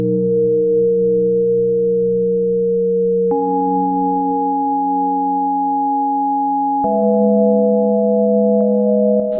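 Smooth synthesizer pad tones for ambient music hold simple sustained chords, changing twice with clean, steady, electronic timbre.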